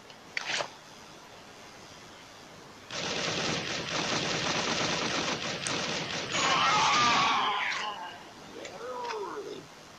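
Rapid automatic gunfire in the mobile shooter Crisis Action, a dense burst of shots lasting several seconds after a brief single shot, loud and close, with a faint chirping effect near the end.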